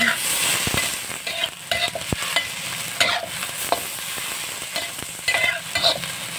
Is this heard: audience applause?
no